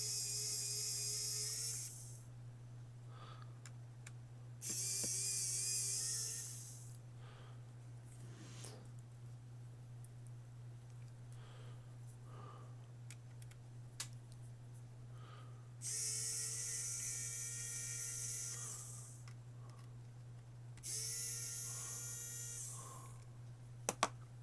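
A Nintendo Switch's bottom screws are backed out with a powered screwdriver: quiet, high whirring bursts lasting a second or two, four in all, separated by near silence over a low steady hum.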